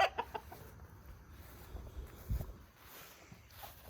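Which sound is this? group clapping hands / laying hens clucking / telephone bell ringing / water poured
laying hens clucking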